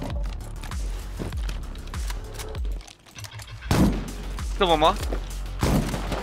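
Rapid automatic turret fire in Rust, repeated sharp bursts close and loud, with a pause midway and a voice speaking briefly among the shots.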